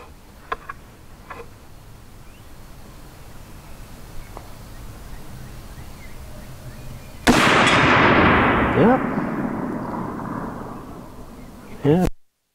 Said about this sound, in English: I'm just gonna take one more shot and see if we are still right in the realm there